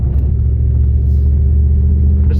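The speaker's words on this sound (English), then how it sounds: "this truck does have an aftermarket exhaust on it, so that's why it's a little bit louder than factory" A 2002 Dodge Ram 1500 pickup with high mileage and an aftermarket exhaust rumbles heavily and steadily at close range, a loud, deep, continuous drone while accelerating.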